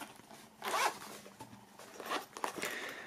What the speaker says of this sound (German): auch wenn mein Reißverschluss gerade irgendwie Faxen macht